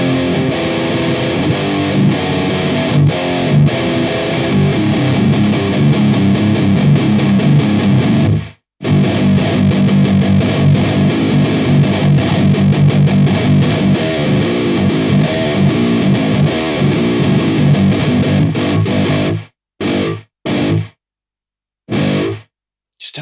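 Heavily distorted electric guitar runs through a Bulldog Audio Assault VST amp with a boosted screamer pedal, playing loud, dense riffs with a brief pause midway and choppy stops near the end.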